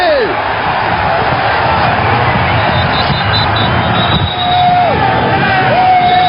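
Crowd cheering and roaring at an XFL football game between the Orlando Rage and NY-NJ Hitmen, a dense, steady wash of many voices with a commentator talking over it and a few whistle-like tones near the end.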